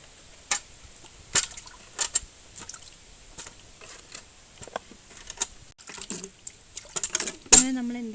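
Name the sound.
mangoes dropped into a bucket of water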